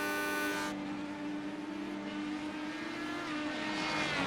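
An IndyCar in a racing video game at Long Beach spins through donuts, its engine a continuous high, wavering whine that holds steady and loud for the whole stretch.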